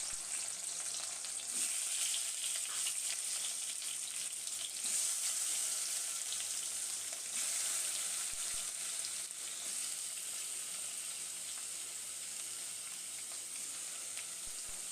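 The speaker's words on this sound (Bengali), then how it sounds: "সরিষাগুলো ফুটে গেলে আমগুলোকে তেলের ভিতরে দিয়ে দেব" Mustard seeds and raw mango frying in hot oil for a sour mango dish, giving a steady, dense sizzle with faint popping crackles that holds close and even throughout, with no voices.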